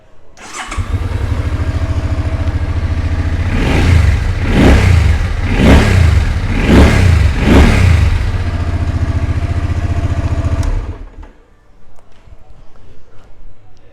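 A 2007 Suzuki Intruder 800 motorcycle fires up and idles loudly close by, then is revved four times in steady surges before the engine cuts off, leaving a quieter background.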